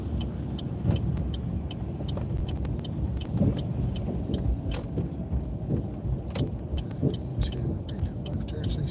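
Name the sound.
car driving and turning at night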